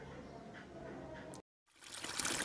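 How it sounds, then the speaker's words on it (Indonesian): Water trickling and splashing steadily at close range, a dense liquid rush that drops out briefly before resuming louder and fuller. "yang pertama ada suara gemericik air"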